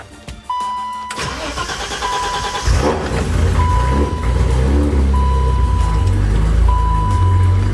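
A BMW E30 with a freshly replaced in-tank fuel pump cranks briefly and catches, then settles into a steady, loud idle up close, while a repeating electronic chime beeps over the running engine.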